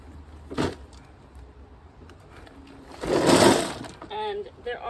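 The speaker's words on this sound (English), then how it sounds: "So I'm going to start just putting the rocks on the fabric." Wet river rocks tipped and set onto landscape fabric in a backyard, a brief clatter early, then a louder crunching rattle of stones that settles into lighter clicks.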